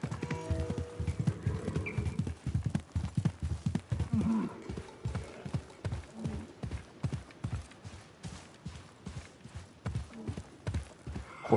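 A horse's hooves clip-clopping in the Assassin's Creed Mirage video game, a steady rhythmic trot of sharp close hoofbeats that slows and thins toward the end.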